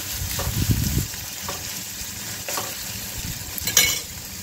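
Onions frying in a pan while being stirred toward golden brown, with a steady sizzle, a burst of scraping stir strokes near the start and another near the end.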